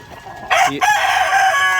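A rooster crows loudly and close by, one drawn-out call, while hens cluck softly in the background at a poultry farm with layered battery cages.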